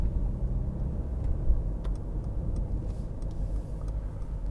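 Inside a 2015 Mercedes-Benz C200 C-Class with a 1.6-litre engine cruising on a motorway: a steady low engine and road rumble with tyre roar and faint clicks, and no talking.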